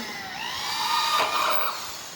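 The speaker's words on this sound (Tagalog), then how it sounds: "para makapaglagay tayo ng rivet, kailangan natin ng barena" A power drill whines at high pitch, rising as the bit bites into metal for a couple of seconds, close and loud, drilling a hole for a rivet while installing PVC ceiling panels.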